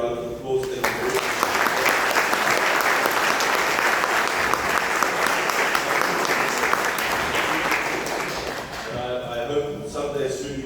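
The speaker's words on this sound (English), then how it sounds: "Let's give them a round of applause." An audience at a ward public meeting claps loudly and continuously for about eight seconds, a dense wash of applause that fades out, with voices speaking briefly before and after.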